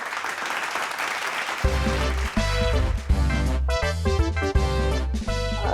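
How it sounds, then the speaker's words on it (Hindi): Applause from a crowd in a scene of the Hindi children's fantasy series Baalveer, a dense burst of clapping for about a second and a half before loud music with steady beats takes over. "तालियों की आवाज है लगती कितनी मधुर।"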